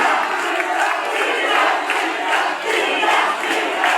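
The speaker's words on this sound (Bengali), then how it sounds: "নেতৃত্বে একটি বিশাল মিছিল আসছে" A dense crowd at a political rally procession roars and chants in steady waves that swell and ease rhythmically, loud and close, with no single voice standing apart.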